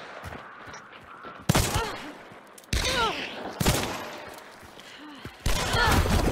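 Bursts of gunfire from the video game Hunt: Showdown crack loudly, several separate volleys and single shots spread across the stretch, with a muffled in-game background between them.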